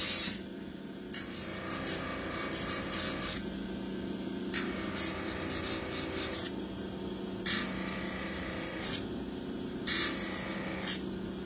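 A large Scotch-Brite wheel spins steadily with a continuous abrasive whir, broken by several brighter rasping bursts as it works against a metal pattern plate.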